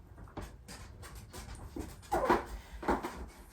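Soft, high-pitched dog whimpers come in short bursts with quiet panting between them, close by and fairly faint.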